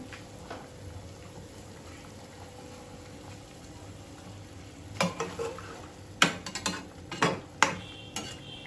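Boal fish curry with local taro is sautéed in a pan. A quiet simmering hiss runs underneath, then a cluster of scraping stirs and spoon knocks comes in toward the end.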